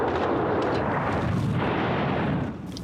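Russian artillery shelling in a small town near Kyiv produces a dense, continuous roar of blasts and rumbling booms, loud and sustained, easing slightly only at the very end.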